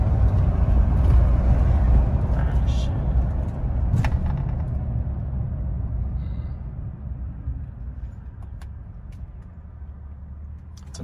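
Pickup truck towing a rented skid steer on a trailer, its engine and road rumble steady and close throughout, with a few faint rattles and knocks on top.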